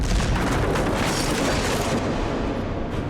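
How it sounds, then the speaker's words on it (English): Artillery fire explosion on a Second World War beach landing at Omaha Beach on D-Day: a loud, dense rumbling blast that sustains as a heavy roar for several seconds, slowly easing off. "They do a lot of damage with artillery fire"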